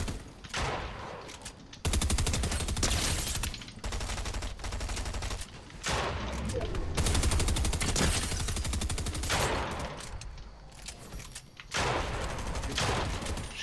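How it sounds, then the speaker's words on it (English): Dense automatic gunfire from a competitive solo video game match, fast rattling bursts and sustained fusillades broken by short pauses, loud and close with no talk. "Shoot your gun."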